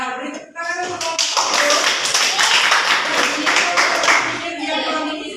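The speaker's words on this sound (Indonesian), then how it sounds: "Beri tepuk tangan untuk kelompok" A classroom bursts into clapping for a student group, many hands applauding briskly for several seconds after a voice speaks at the start, then tapering off with a few voices.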